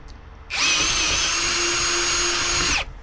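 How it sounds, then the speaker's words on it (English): A power drill bores a 5/16 hole straight through a pipe, starting sharply, holding a steady high whine for a little over two seconds, then cutting off, close and loud with no talk. "Drill a pilot hole, then drill your 5/16 hole straight through both"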